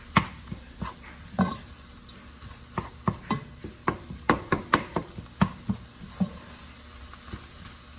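A spoon stirs homemade spaghetti sauce ingredients in a pot, a series of close, irregular scraping clacks and soft wet knocks over a faint background sizzle.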